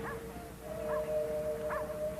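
A dog barks in a yard in short, separate yips, three of them spread evenly across the moment, heard at a moderate distance over a steady tonal hum and low background noise.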